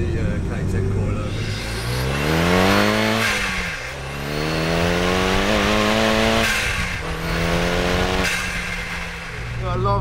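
A turbocharged Renault Kangoo sleeper van with a Megane 225 engine swap on coilovers accelerates hard through the gears, its engine note climbing repeatedly with shifts, loud and close inside the cabin, with people talking over it.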